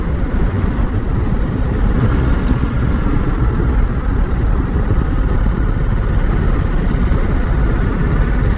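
A 2022 Ducati Monster's engine runs at low speed, a loud continuous mechanical rumble with a busy clattering texture from its desmodromic valve gear, steady throughout with no talk.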